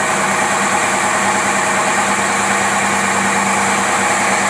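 An engine fitted with a Rochester Quadrajet carburetor idles steadily at close range, producing a constant, even droning hum with no pauses or talking.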